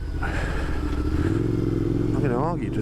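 A motorcycle engine rumbles close by, a steady low throbbing idle with a slight rise in pitch, while someone talks over it.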